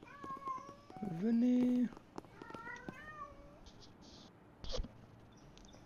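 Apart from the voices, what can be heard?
the speaker's pet cat meowing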